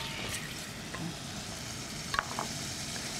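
Meat sizzles steadily in oil with crushed garlic, a continuous frying hiss with a few small pops and stirring sounds near the end.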